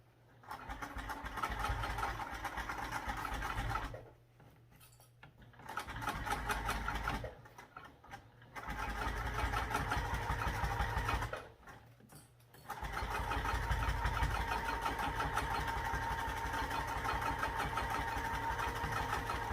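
A sewing machine stitches a seam on a backpack in long steady runs, pausing briefly twice between bursts of fast, even mechanical humming, close and clear.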